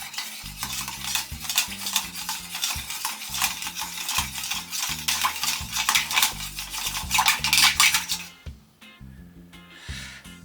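A spoon stirring a martini over ice in a mixing glass, a rapid continuous jingle and clatter of ice cubes against glass for about eight seconds, close and fairly loud, then stopping abruptly with a few faint knocks after.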